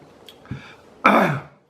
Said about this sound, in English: I gotta clear my throat here